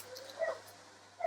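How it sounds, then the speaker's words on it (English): A neighbor's dog barks in the background, heard as faint, distant short yips and whimpers in a quiet room. "Neighbor's dog in the background, that means my neighbors come home."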